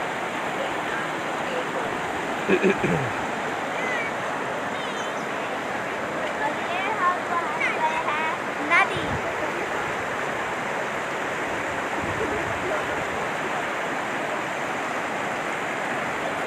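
A river near Rani Bagh in Uttarakhand gives a steady, broad rushing flow throughout, loud and close, with brief faint voices and a few small knocks over the water.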